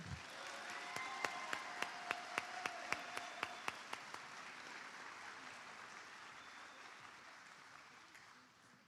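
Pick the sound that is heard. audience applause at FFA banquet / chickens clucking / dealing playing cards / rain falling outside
audience applause at FFA banquet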